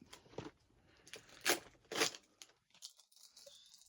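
Plastic wrapping being torn and crinkled off Lord of the Rings extended VHS tapes, with several sharp ripping bursts up close followed by softer rustling.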